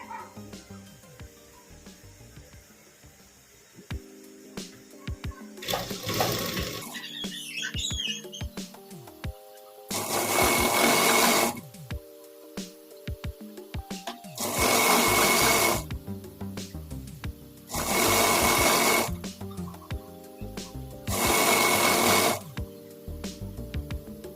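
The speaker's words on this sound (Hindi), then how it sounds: "अब इसको हम पहले इस तरह से रखकर एक तरफ सिलाई लगा लेंगे।" Sewing machine stitching the buckram belt of a salwar in four or five loud, close bursts of about a second each, separated by quieter handling pauses, with no talking.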